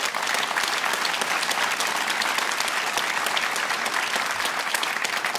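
Sustained applause from an audience filling a conference hall during a Ramadan conference, dense steady clapping for several seconds without pause.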